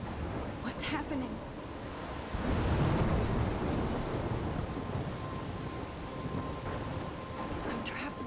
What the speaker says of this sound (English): Wasn't expecting coming in a thunderstorm